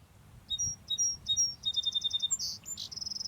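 Birds sing outdoors with high, rapid chirps and trilled phrases repeated in quick succession, clear and fairly close over a low background rumble.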